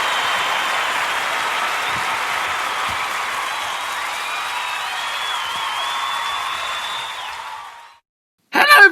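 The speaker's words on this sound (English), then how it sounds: "Thank you for the wonderful round of applause." A round of applause from a radio show's live audience, dense continuous clapping at a steady level for about eight seconds before cutting off, followed by a brief burst of sound at the very end.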